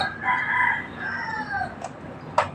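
Hens call out in a drawn-out, crow-like cackle and cluck nearby, one fairly loud rising call that trails off, followed by a couple of sharp short clucks.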